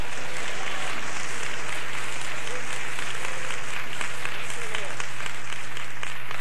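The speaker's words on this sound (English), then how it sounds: "Somebody clap your hands and shout praise the Lord." Church congregation clapping and calling out praise together, a dense steady wash of applause with shouted voices mixed in, filling the room at an even level throughout.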